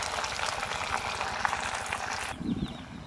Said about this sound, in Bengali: এরকম উল্টে পাল্টে একেবারেই লাল লাল করে মুচমুচে করে ভেজে নেব